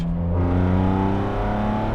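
A BMW M sports car engine with a carbon intake revs loudly with a rich, droning intake roar, holding a steady pitch close by.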